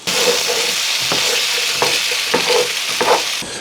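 Kielbasa hash sizzles loudly and steadily in a cast iron pan, with a spatula scraping and stirring through the food every second or so.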